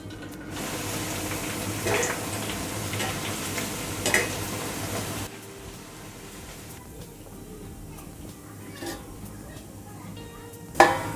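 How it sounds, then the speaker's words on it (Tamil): Cauliflower florets fry in hot oil in a pan, giving a steady sizzle with occasional stirring clatter and a few sharp pops, close and moderately loud throughout. "இப்போ நம்ம ஒரு காலிஃப்ளவராக போட்டு பொரிக்க ஆரம்பிக்கலாம்."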